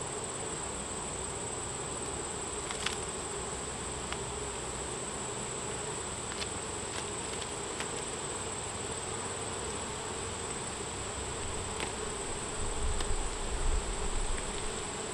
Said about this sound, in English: these yellow jackets just lie in wait for when I open these hives